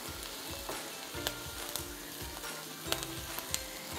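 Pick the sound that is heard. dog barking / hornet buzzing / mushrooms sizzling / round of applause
mushrooms sizzling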